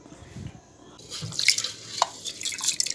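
Rice and split moong dal being rinsed together in water for kichidi: quiet sloshing and scattered drips close by, growing busier in the second half.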